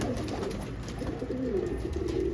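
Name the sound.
pigeon cooing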